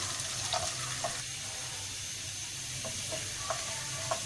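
Garlic and cumin seeds sizzling steadily in a pan of oil that had been left to cool, a close, continuous crackling hiss with a few brief brighter pops and no talking.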